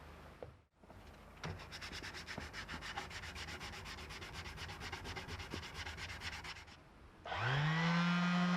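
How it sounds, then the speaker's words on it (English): A hand file shapes the wooden body of an electric guitar, a rapid run of rough rasping strokes at close range for several seconds, then a louder, steady mechanical hum takes over near the end. "get it a bit to shape before I go on to the finer file"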